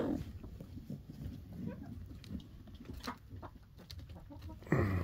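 Hens cluck and murmur softly in a coop during egg collecting, scattered calls close by and fairly quiet, with a louder burst of clucking at the end.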